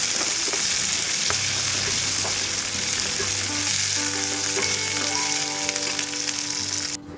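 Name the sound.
frying coriander and curry leaves in oil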